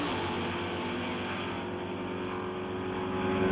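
A 1968 Firebird and a 1969 Mustang run side by side down a drag strip, their engines blending into a loud, sustained roar that holds steady and swells slightly toward the end.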